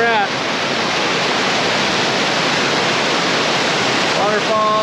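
Steady, loud roar of a Yosemite waterfall fills the whole stretch as an unbroken broadband rush, with a voice briefly speaking over it near the start and end.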